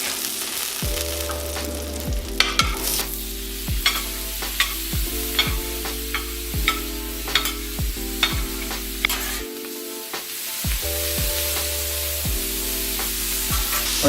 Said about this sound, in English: I'm gonna go ahead and saute this a little bit